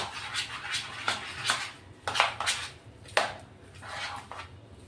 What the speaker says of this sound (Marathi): आता हे चांगलं आपण मिक्स करून घेऊ. फेटून घ्यायचं चांगलं.